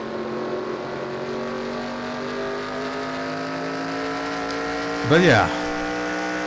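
Race cars in a racing video game droning steadily at high revs, layered engine tones holding pitch, with a brief sharp swell as one car passes close; a voice speaks briefly over it.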